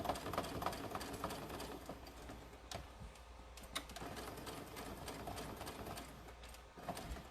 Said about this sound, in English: I'm just going to do some back stitches there.